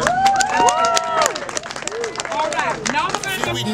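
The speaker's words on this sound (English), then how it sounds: "All right, give him a cheer." A crowd at a lively event in Jamaica cheers and applauds steadily, with raised voices and shouts layered over continuous clapping throughout.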